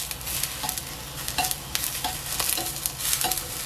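Eggplant fries in cooking or olive oil in a thick frying pan over medium heat, giving a soft steady sizzle broken by repeated light scraping and stirring clinks, with no talking.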